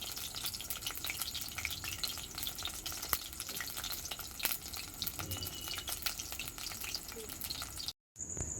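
Taro-leaf fritters frying gently in oil over low heat, a steady soft crackle and sizzle running throughout with scattered pops, close by and alone without talk, briefly cutting out near the end.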